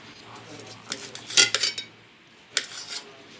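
A knife cuts through peeled bitter gourds, giving a handful of sharp taps and clinks against the board, close and clear, with quiet pauses between them.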